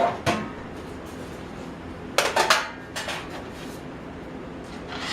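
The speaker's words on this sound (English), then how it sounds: "We're going to get our pan." A metal cooking pan is pulled out and handled in a home kitchen, giving a short clank near the start and then a cluster of sharp metallic clatters and knocks, close by with no talking.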